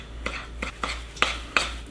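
A utensil clinks against a bowl in several sharp, evenly spaced taps while ingredients are stirred together, close and clear over a steady low hum.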